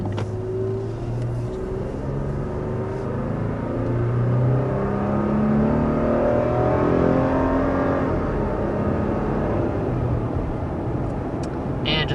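A 2021 Toyota Tacoma pickup accelerates steadily to 60 mph, heard from inside the cabin, the pitch climbing through gears over a constant road rumble, loud and unbroken.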